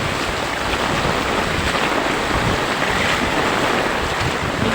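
Strong wind roars steadily, a dense broadband rush with gusty buffeting against the microphone, continuous throughout with no voices.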